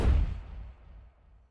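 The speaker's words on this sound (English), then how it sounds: "you want to add a deep low whoosh sound effect." A deep, low whoosh for a big-impact transition opens with a heavy booming hit, then rumbles and fades away over about a second and a half.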